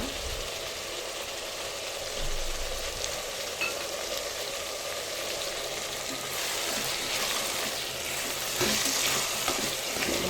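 Vegetables for vangibath fry in a pan with a steady, close sizzle and occasional stirring scrapes that run continuously throughout.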